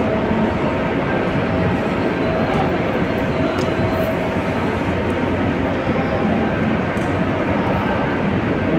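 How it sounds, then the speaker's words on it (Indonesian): A motor-driven construction machine creeps slowly along rails in a high-speed railway tunnel at Purwakarta, giving a steady, loud, unbroken mechanical roar and rumble throughout. "Inilah konstruksi mesin atau alat-alat yang bergerak perlahan-lahan"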